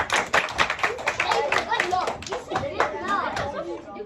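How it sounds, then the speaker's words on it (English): A group of children claps for a young girl who has stepped to the front, quick scattered claps close by, mixed with chatter and kids' voices. "Round of applause for this young lady."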